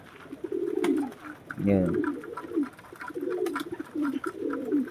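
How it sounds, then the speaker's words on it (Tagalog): Pigeons coo nearby with a low throaty rolling call rising clearly around the middle, set against soft background chatter and someone talking briefly in an outdoor setting. "Nagre-response naman na yung mga kalapate."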